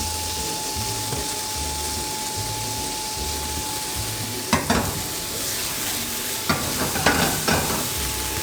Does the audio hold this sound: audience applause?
no